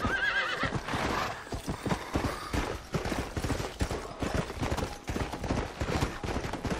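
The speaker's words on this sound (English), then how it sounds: "Found one of the horses right here." Horse hooves clip-clop rapidly and a horse neighs in the Red Dead Redemption video game, loud and continuous, with busy game sound around it.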